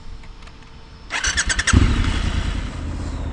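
A Triumph Scrambler 1200 XE motorcycle cranks with a brief starter whir, then catches and settles into a loud, deep, throbbing idle close by, with no talk over it.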